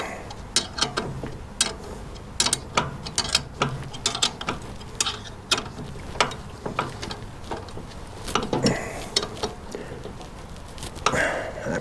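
Bolts being tightened on an Ariens ST824 snow thrower during a refurbish, a wrench or ratchet clicking in quick irregular bursts, close up, over a low background hum.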